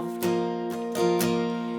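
An acoustic guitar strums chorus chords for a song in a steady pattern, with several distinct strokes ringing close and clear at moderate volume and no voice heard.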